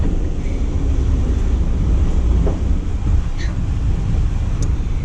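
A Mercedes G550 4x4 Squared rolls over railroad tracks: a loud, continuous low rumble and road roar with heavy wind buffeting, plus a few faint clicks and knocks from inside the cabin.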